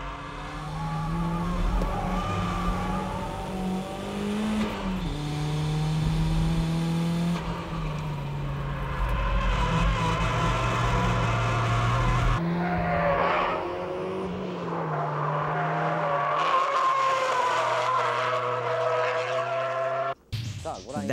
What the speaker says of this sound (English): That's how you drift with oversteer cars like the MR2.